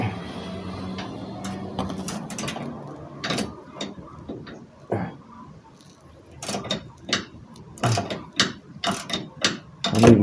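A ratchet wrench clicks on Ford F150 winch plate bolts, with irregular bursts of sharp ratcheting ticks separated by brief pauses, close up and fairly loud.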